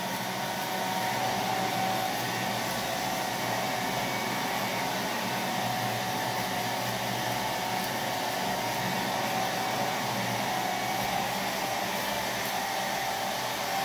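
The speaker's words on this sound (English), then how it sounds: "I'm now blow drying it." Hair dryer blowing on freshly washed hair, a steady, loud whooshing hum running unbroken and close for the whole stretch, with no voices.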